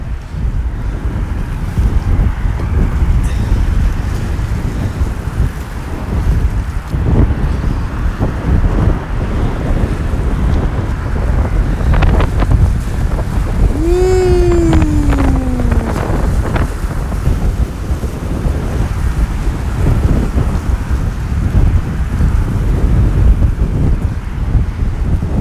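Steady wind blowing across a boat at sea, a constant loud rushing roar buffeting the microphone throughout, with a brief faint tonal whistle or creak near the middle and no talking.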